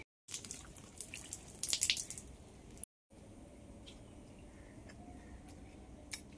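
Water splashing and dripping over freshly picked guava as it is rinsed by hand, a brief burst of close splashing followed by a quieter spell of drips and trickles.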